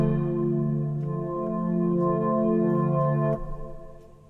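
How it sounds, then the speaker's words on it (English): Reverse Engineering synthesizer patch from the Classics folder in Logic Pro X playing sustained harmonic chords that swell and shift, ending with a sharp cutoff into a low decaying tail, with no voices. "I have grabbed this synthesizer from the Classics subfolder. It's called Reverse Engineering"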